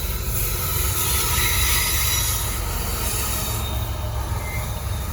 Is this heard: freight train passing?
yes